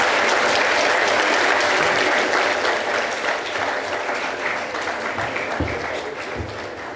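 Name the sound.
audience applause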